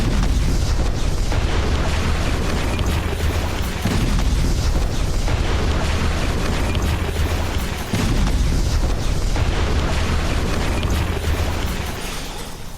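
Overnight bombardment of northern Gaza, with rocket strikes on Hamas positions: dense, continuous rumbling booms and blasts that rise and fall, with a brief dip near 8 seconds and a fade at the end, with no talk.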